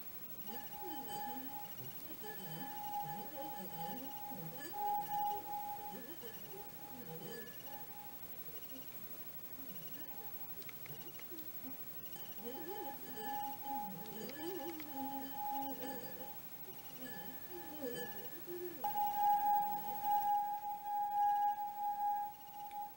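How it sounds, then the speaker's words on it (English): A drinking glass sings as a wet finger circles its rim, a sustained pure ringing tone that swells and fades over several passes, with faint background voices and rustling. "slowly and steadily run her hand across the rim of the glass around in a circle"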